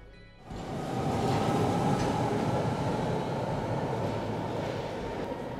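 A London Underground Central Line train on the eastbound platform at Tottenham Court Road bursts in loudly after a brief quiet, then holds a dense rumbling roar of wheels and motors close by.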